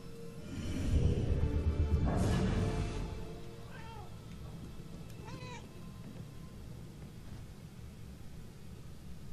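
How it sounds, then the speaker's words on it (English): A cat meows a few times in Murdered: Soul Suspect, two or three short cries at moderate distance, set against steady game ambience and a louder noisy swell near the start. "Maybe the cat can help get to it."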